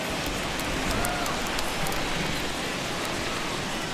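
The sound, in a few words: rain falling on baseball stadium in MLB The Show 21 video game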